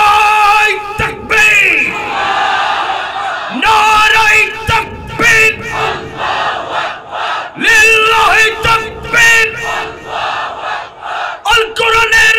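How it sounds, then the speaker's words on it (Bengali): A rally crowd at a Jamaat-e-Islami Seerat gathering at Madina Market chants the Nara-e-Takbir slogan, loud massed voices rising in repeated call-and-response bursts across the clip. "আমরা একটু সবাই তাকবীর ধরি"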